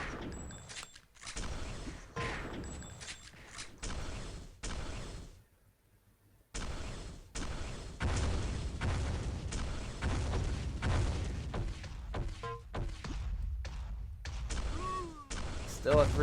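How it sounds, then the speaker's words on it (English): Machine gun fire in the Sauerbraten arena shooter rattles in dense repeated bursts, broken by a brief quiet gap, with a voice talking over the gunfire. "Whiffing the machine gun"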